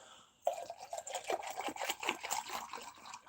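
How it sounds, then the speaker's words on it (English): Water poured steadily into a glass, a close, continuous trickling and bubbling stream that starts abruptly and runs on alone. "Ah, you hear that pouring of water, don't you?"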